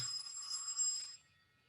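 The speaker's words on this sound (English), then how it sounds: "some call is coming actually" A phone rings with an incoming call, a bright electronic trill that lasts about a second before cutting off, heard alone at moderate loudness.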